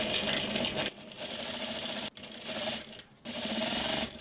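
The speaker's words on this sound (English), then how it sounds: "And now I'm just going to stitch along the fold line" A sewing machine stitches bias tape along a fold line on a dress sleeve, running in close, steady bursts with three brief pauses.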